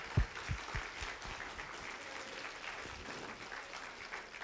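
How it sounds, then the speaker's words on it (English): Audience round of applause at a women's automotive industry chapter event, with a few sharp close claps at the start, then steady mid-level clapping continuing throughout. "Can we give them a round of applause?"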